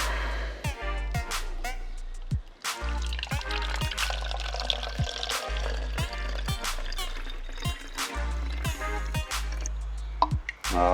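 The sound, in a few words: filling a small spray bottle with water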